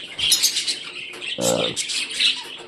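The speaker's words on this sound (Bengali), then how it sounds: "আমি সিটি দেওয়ার সঙ্গে সঙ্গে এও সিটি দেয়" Budgerigar whistling and chirping in a cage, a series of bright close chirps and short whistles with a brief lower-pitched burst midway.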